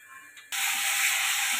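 Water splashes into hot, well-fried biryani spice paste of chilli, turmeric, cumin and coriander powder, and a loud, steady sizzling hiss erupts at once and carries on close to the pan.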